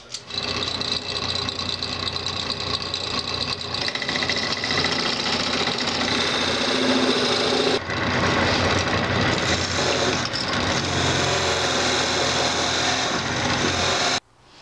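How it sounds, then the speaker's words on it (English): A steady, loud mechanical whir of a lathe running at very slow speed with a drill bit boring into the end of a wooden peppermill blank, continuous for the whole stretch and ending abruptly. "I'm just going to drill a little over a 1/2 inch deep down in the end here"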